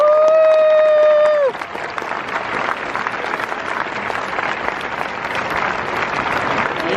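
A large crowd at the Stanford commencement 2019 claps and cheers to welcome Tim Cook, loud, continuous applause that rises right after a sustained tone fades and then holds steady throughout.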